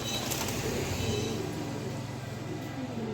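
Pigeons kept as pet White Mumbai birds make soft cooing and rustling noises, with a flutter of wings, steady and close against faint background noise.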